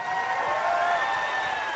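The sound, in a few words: applause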